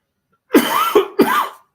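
Three quick, harsh coughs in close succession, close and fairly loud, with nothing else heard.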